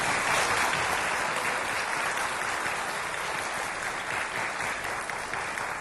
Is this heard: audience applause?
yes